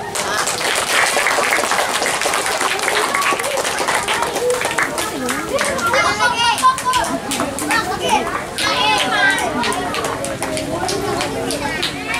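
A crowd of children and adults clap together at an end-of-year Islamic school celebration, continuous and lively with children's chatter mixed through it.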